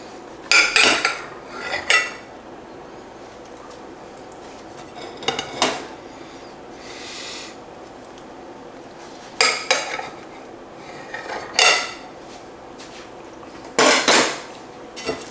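A knife cutting through cheesesteak sandwiches with peppers, onions and mushrooms, with several sharp clinks and scrapes of metal on a plate or board, spread out with quiet gaps between them.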